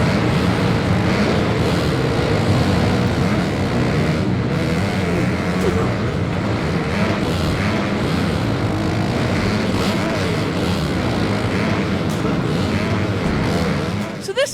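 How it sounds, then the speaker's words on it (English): Dirt bike and ATV engines in MX vs ATV Supercross on indoor tracks, a steady droning whine of motors running throughout beneath continuous talking. "This is a racing game where you get to drive dirt bikes and ATVs on these realistic indoor tracks"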